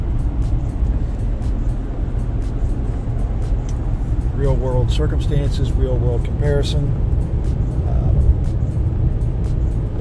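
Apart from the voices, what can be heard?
2019 RAM 1500 truck driving at 77 mph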